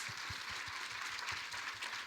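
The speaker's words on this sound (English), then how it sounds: "Let's give them another round of applause." Brief burst of crowd applause, many hands clapping steadily at a moderate distance with no voices.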